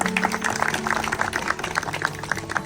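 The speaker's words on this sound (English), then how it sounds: "So kudos to him and claps for him also." A gathered audience at an alumni get-together applauds the consul general with a steady, dense patter of clapping that carries on throughout, moderately loud with a faint voice underneath.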